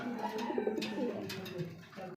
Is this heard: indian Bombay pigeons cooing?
yes